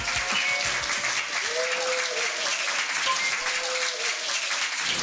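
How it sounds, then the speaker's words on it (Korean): A crowd claps loudly and continuously, dense applause filling the space, with a few faint voices mixed in. "여러분 뜨거운 박수 부탁드립니다"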